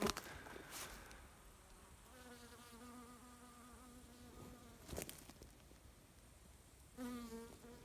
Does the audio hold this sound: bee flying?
yes